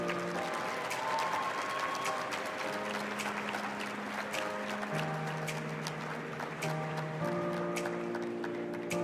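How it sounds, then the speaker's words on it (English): A crowd claps steadily throughout, a dense wash of applause with sustained music chords underneath. "Huge round of applause for Alaria Cosplay."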